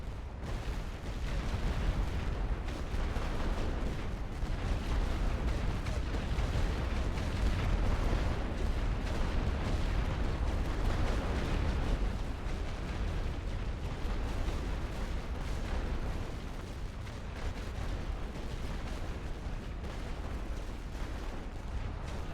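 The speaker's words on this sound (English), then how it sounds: "Chargez l'artillerie. Tir de barrage ordonné. Commencez le barrage." An artillery barrage in the video game The Great War: Western Front, a continuous dense rumble of overlapping booms and blasts rolling on at steady loudness throughout.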